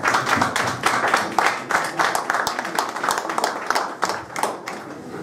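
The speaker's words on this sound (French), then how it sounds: "Donc, je vous laisse applaudir." A crowd applauds steadily for several seconds, many hands clapping together in a dense, continuous patter.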